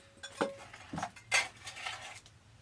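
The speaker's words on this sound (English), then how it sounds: "We have a cat food can." A few light metallic clinks and scrapes as a small tin can is picked up and set down, quiet and close, with no speech.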